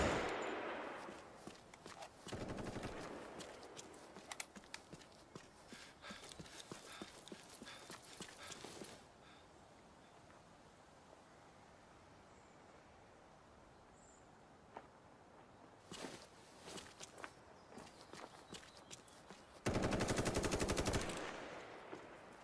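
Gunfire in the zombie survival video game The Day Before: loud bursts of rapid automatic shots at the start and again later, separated by quieter stretches of ambient game noise, plus clattering sounds like hoofbeats.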